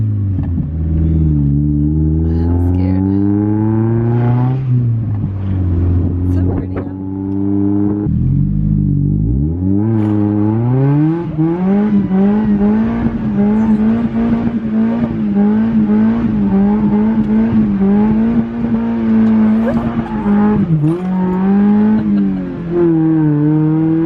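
A Mazda Miata engine revs up and down repeatedly, its loud rising and falling drone sustained through the whole stretch, close and continuous with no talk over it.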